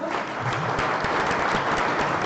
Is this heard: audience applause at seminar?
yes